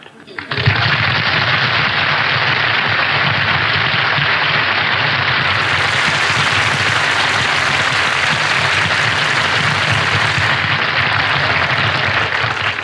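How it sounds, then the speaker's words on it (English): Dense, sustained studio audience applause greets Humphrey Bogart's entrance on a live 1953 CBS television comedy broadcast, loud and continuous for about twelve seconds after a brief quiet start. "I didn't mind the applause he got on his entrance"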